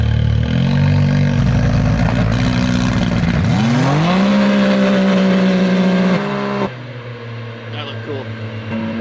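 A race car, a prepared Can-Am Maverick X3, revs and launches hard from a standstill, engine note climbing steeply then holding high before backing off, loud and close with people talking around it.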